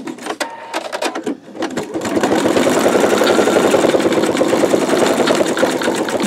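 An embroidery machine stitches out a bumblebee quilt block, starting with a few sparse clacks before settling into a steady, loud, rapid mechanical chatter of needle strokes that continues without pause.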